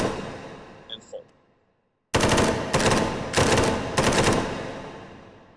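A gun in the VR shooter H3VR fires on full auto to empty its magazine: after a short quiet gap come four loud rapid bursts in quick succession, close and sharp, following some faint handling clicks.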